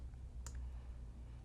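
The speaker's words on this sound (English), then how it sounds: "I'm just going to hit Control Z on the keyboard to go back to that other font." A single sharp keystroke on a computer keyboard, pressing Control Z, lands as one quick faint click over a low steady background hum, with no other sounds around it.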